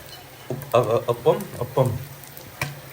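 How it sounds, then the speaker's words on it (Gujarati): Appam cook in a pan while puffed rice is tempered, giving a soft, steady sizzle and frying crackle under someone talking at close range. "અપમ બની રહ્યા છે"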